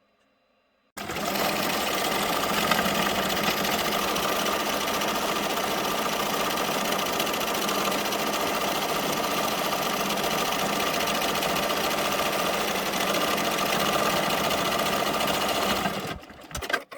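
An embroidery machine stitches the green border of a Cocomelon melon design onto a T-shirt, a loud, steady rapid needle chatter that starts abruptly, runs without pause for about fifteen seconds, then stops.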